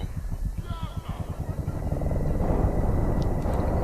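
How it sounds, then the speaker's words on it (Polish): Enemy helicopter in Battlefield Bad Company 2, a steady rhythmic rotor chop that thickens into a loud, dense engine roar, with game sounds layered over it. "Śmigłowca wroga! Opuszczają się z niego dolina!"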